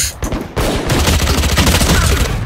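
Rapid in-game gunfire from Valorant, a loud continuous burst of shots layered over a busy match soundscape, with no talk over it.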